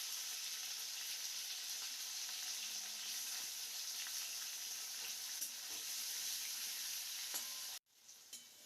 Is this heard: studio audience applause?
no